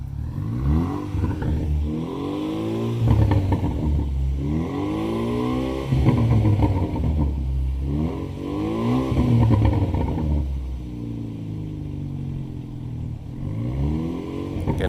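Hyundai Veloster engine with its exhaust cutout open, revved repeatedly in rising and falling surges, a loud raspy close-up roar swelling and dropping in a steady pattern of about four pulls.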